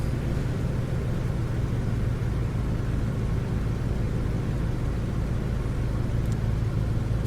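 Steady droning rumble of a Junkers Ju 52 tri-motor tail dragger's engines being throttled back in Microsoft Flight Simulator 2020, a continuous loud low hum without voices.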